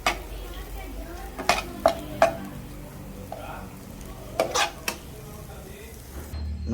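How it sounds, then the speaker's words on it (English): Corn and carrots sautéing in a pan, a low sizzle beneath a few sharp clicks and scrapes of a utensil stirring against the pan. "Now that our corn and carrot saute are done"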